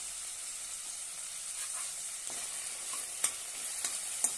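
Chopped tomato and ginger-garlic paste sauté in a pan for a ghevda and potato dry bhaji, giving a quiet, steady sizzle with a few faint stirring clicks.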